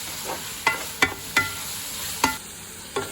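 Onions with garam masala and a pinch of salt cook in a pan, giving a soft constant sizzle broken by five sharp stirring knocks of a spoon against the pan.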